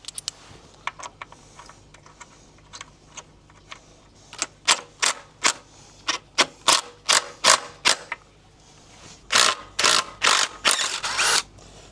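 Fitting GB Racing paddock stand bobbins on a motorbike: a series of sharp metallic clicks like a ratchet, sparse at first, then quicker and louder, close by with no talk.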